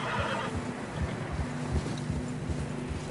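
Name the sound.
horse neighing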